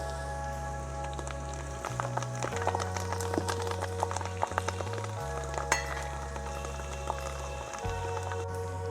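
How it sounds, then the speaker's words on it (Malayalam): Curry leaves crackle and pop in hot oil for a Kerala-style fish pickle, with garlic and ginger already in the pan. The spitting is steady and faint over a constant low hum, with no talk. "ഇനി കറിവേപ്പില ഇട്ട് കൊടുക്കാം."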